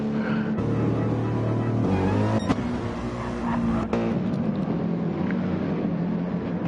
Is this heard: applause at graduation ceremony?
no